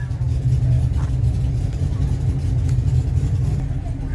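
A car engine at a Kalamazoo cruise night runs with a steady low rumble and slight revving, close and loud, with voices in the background.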